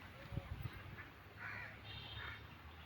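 Ducks quack faintly and intermittently in the distance over a quiet outdoor background.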